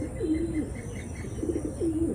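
Soft, low pigeon coos repeat in a gentle rhythm, rising and falling, with faint background hiss and no talking.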